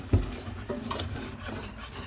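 A utensil scrapes and stirs flour into melted butter in a pan for a béchamel roux, with soft close rasping strokes through the thick mixture.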